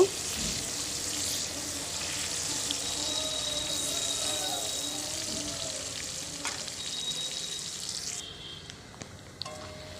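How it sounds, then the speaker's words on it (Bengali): Raw onions frying in oil with cardamom for an egg curry, a steady close sizzle holding for several seconds with a few light stirring knocks, then fading toward the end. "এই পেঁয়াজগুলো একটু লাল লাল করে ভেজে নেব"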